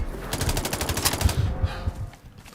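Rapid machine gun bursts ring out in a shooter video game, a dense rattling stream of shots at steady volume that thins toward the end.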